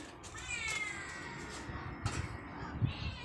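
A cat meows faintly in a quiet household setting, a few drawn-out cries heard at a distance over low background noise.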